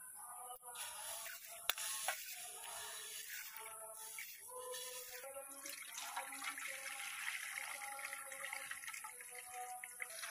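Water splashes and swirls as masoor dal (red lentils) is rinsed in a bowl, a steady wet sloshing with rattling grains and occasional clinks, close and moderately quiet.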